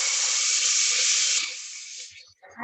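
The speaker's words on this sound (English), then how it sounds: "I love that sizzle on the bubbles." Coconut milk hits a hot pan for Thai curry and sizzles with a loud, close hiss that holds steady, then tapers and fades into quieter bubbling.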